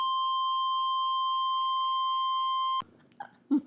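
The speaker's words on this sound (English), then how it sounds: "just say it so we can use the beep" A steady, loud censor beep tone holds unbroken for almost three seconds and then cuts off abruptly, followed by brief voices talking.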